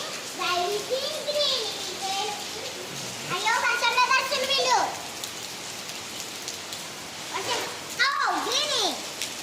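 Steady rain hisses on a surface throughout while children's voices chatter and call out over it in bursts.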